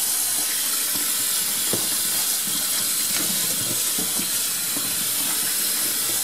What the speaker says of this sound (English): Let me wash the rest of this off.